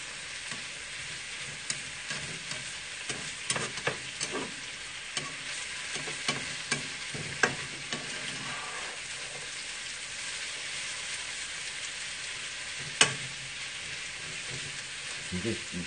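Potatoes frying in a pan while being stirred, a steady soft sizzle with frequent scraping clicks of the utensil across the surface, fairly close and moderate in level.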